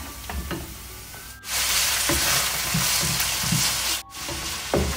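Chicken pieces hit hot oil in a pan with garlic, shallots and chili for a Pakistani curry, bursting into a loud, steady sizzle broken by the scrape and clatter of stirring, close by.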